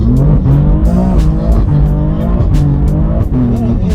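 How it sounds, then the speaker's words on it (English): A rear-wheel drive BMW M4 slides on an icy, snowy mountain road, its engine droning loudly and steadily with rising and falling revs and tire noise throughout, no speech over it. "Very icy up here, the cars are sliding"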